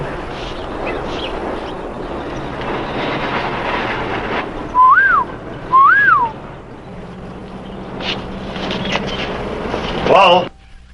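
A man gives a whistle signal: two short, loud rising-and-falling whistles in quick succession, with a fainter trill near the end, over a steady low rumble of background noise.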